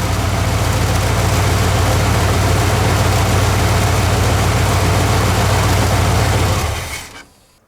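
A junkyard truck engine runs cold on a new ignition coil, a loud, steady low rumble held close, then cutting off abruptly near the end.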